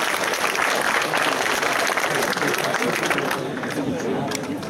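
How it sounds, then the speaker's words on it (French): Sustained, dense applause from a convention audience at a geek festival stage show, loud and steady throughout with faint crowd chatter mixed in. "applaudissements"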